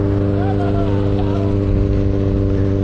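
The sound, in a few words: Kawasaki Ninja ZX6R motorcycle exhaust while riding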